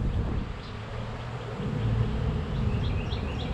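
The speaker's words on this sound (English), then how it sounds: "That's potentially a whole lot of bees." Honey bees buzz densely on a hive frame lifted from a spring hive, a steady close-up drone with no pause.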